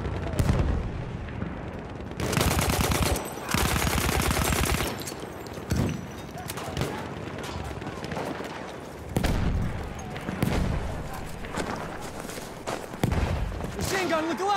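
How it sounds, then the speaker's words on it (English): Bursts of machine gun fire in the World War I shooter Battlefield 1, rapid loud volleys in two long strings followed by scattered shots and booms, with shouted voices in between. "Machine gun, look alive!"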